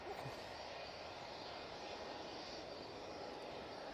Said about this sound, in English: E2 is about to touch down